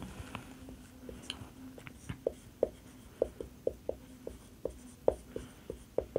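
Pen or marker writing by hand on a surface, faint close scratches and taps in an irregular quick rhythm, with quiet room noise beneath and no talking.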